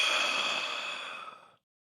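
A voice imitates a creature's gasp of air: one breathy, drawn-out intake lasting about a second and a half that fades and stops abruptly.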